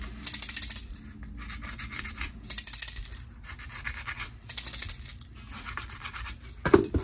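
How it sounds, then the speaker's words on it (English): Pen or marker drawing a line across cardboard: repeated short scratchy strokes come in bursts and pauses, close and fairly quiet, with a small knock near the end. "draw a line."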